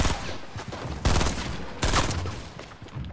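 Dense gunfire from a shooting video game, sustained volleys that surge in loud bursts about every second, continuous and close with no talk over it.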